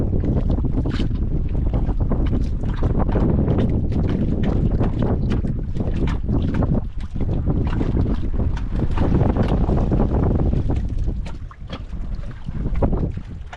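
Strong, steady wind roaring into the microphone while fishing for grouper from a boat, loud and continuous, with the boat's hum beneath it and no voices.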